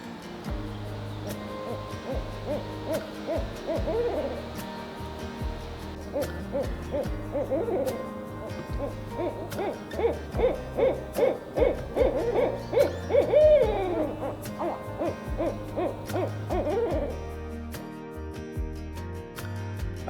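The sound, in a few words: barred owls hooting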